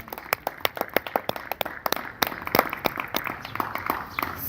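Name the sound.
audience applauding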